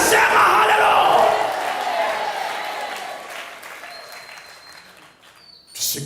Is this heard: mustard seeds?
no